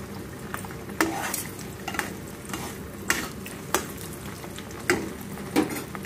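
Beaten egg fries in oil in a pan for egg noodles, a soft steady sizzle under repeated stirring scrapes and sharp utensil taps against the pan at irregular intervals, close by.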